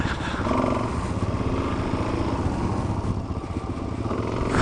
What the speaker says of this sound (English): I'm on the DRZ 400. And there's my little WR 250 Owen's riding.